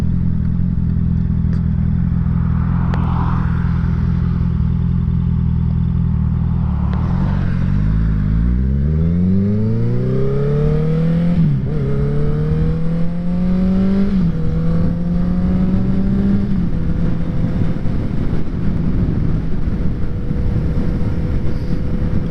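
A motorcycle travels a winding Cumbrian road toward Hartside. The engine drones loudly and close, then rises through several gear changes as it accelerates, with the pitch climbing and dropping between shifts.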